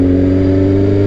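A loud motorcycle engine with no catalytic converters and an aftermarket exhaust idling and revving steadily, with a deep throaty exhaust rumble throughout and no pauses.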